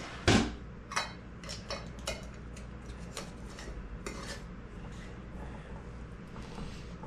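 A lid is set onto a glass jar of pickled red hot peppers, a sharp clink followed by a few lighter taps and clatters of glass and metal up close, then quiet.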